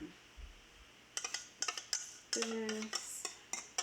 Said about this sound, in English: Stir wet ingredients into dry ingredients